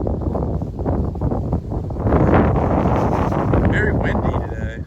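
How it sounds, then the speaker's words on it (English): Strong gusting wind on a mountain trail near Lehigh Furnace Gap, buffeting the microphone in loud, uneven roaring blasts that swell midway, close and dominant throughout. "Very windy today."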